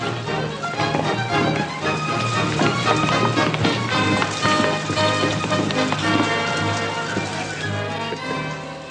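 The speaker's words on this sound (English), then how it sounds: "Hey, everybody, it's raining outside." Heavy rain falls outside in a 1963 western television episode, a dense, steady patter that fills the scene, with a rhythmic clopping sound mixed in.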